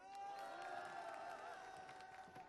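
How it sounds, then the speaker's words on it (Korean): Crowd applause and cheering at Roh Moo-hyun's homecoming event in Bongha Village, a faint, distant wash of clapping blended with music and a sustained tonal drone. "여러분 큰 박수로 보십시오"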